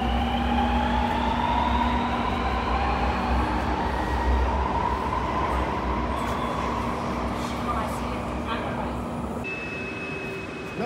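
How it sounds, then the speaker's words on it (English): A Sydney Metro train pulls out of an underground station, a loud rising electric whine and rolling rumble fading away over several seconds, with a short bright tone near the end. "Let's walk down here while we get the shot of the train leaving."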